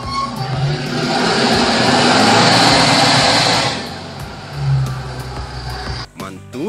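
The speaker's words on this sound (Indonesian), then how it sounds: "Mobil forklift." A toy forklift gives off a loud, continuous whirring engine sound that swells and holds steady, then fades and briefly surges again before stopping.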